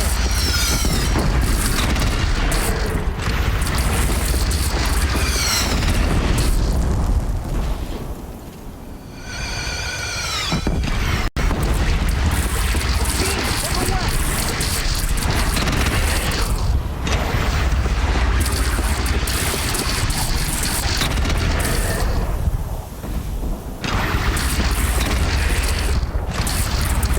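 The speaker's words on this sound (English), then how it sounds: "Take up a cannon!" Cannon fire and explosions in the video game Horizon Zero Dawn fill a loud, dense battle din with repeated booms and mechanical clanks, while creature cries and faint shouts rise briefly over the continuous roar.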